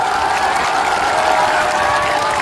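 A large crowd claps steadily at an outdoor political rally in Sheohar, Bihar, a loud, even roar of applause with some cheering mixed in, continuous for the whole stretch without any speech.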